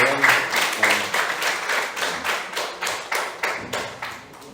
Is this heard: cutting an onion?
no